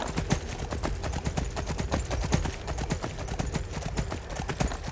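Horse hooves gallop in the Skyrim video game, a quick, regular clip-clop beat of sharp hoof strikes repeating evenly and close, with no voices.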